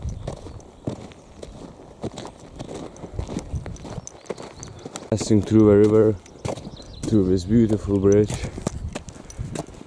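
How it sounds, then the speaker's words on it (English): Hooves of an albino horse clop in a steady walking rhythm beside a river bridge, close and distinct, while someone talks over them in the middle of the stretch. "that's a very beautiful horse right there. An albino, magnificent creature."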